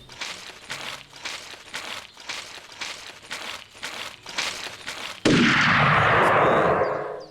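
Rifle fire in the hunting video game Hunting Unlimited 2010, with about a dozen rapid, evenly spaced sharp shots followed by one much louder, close blast that rolls away in a long fading echo.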